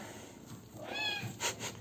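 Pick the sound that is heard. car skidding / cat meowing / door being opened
cat meowing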